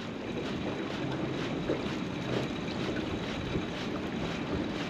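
Steady wind rushes across the microphone while waves slap and churn on Lake Liepāja, a constant broad roar with no voices.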